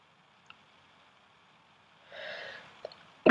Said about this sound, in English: I just sneezed.